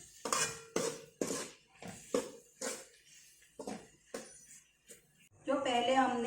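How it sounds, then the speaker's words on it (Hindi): Pav bhaji masala, about two spoonfuls, being stirred into a pan of cooking vegetables, with a spoon clinking and scraping the metal in repeated strokes close by, then a louder burst of sizzling frying at the end; someone speaks between strokes. "इसे हम अच्छी तरह से मिक्स कर देंगे।"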